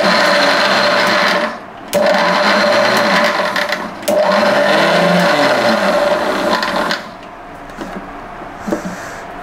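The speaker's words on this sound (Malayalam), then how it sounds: "അപ്പോൾ ഇത്രയും മിക്സിക്കൊന്ന് ചതച്ചെടുക്കണം എന്നാണ് അമ്മ പറയുന്നത്" An electric mixer grinder crushing shallots, garlic, ginger and green chillies in short loud pulses, whirring for a couple of seconds at a time with brief pauses, then winding down to quiet.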